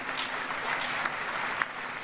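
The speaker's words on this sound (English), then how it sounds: "give a loud round of applause to the Cultural Center Choir" A crowd claps steadily for a choir at a public gathering on election peace and justice: dense, continuous applause held for the whole stretch with no voices over it.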